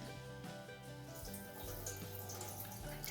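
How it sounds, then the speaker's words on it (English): Water is poured into a sprouting jar, swished around and then drained out. It makes a continuous splashing, gurgling rush that grows fuller and louder partway through, heard close up with no talking. "I'm going to put some water in there and just give it a little swoosh, and then you're going to drain it."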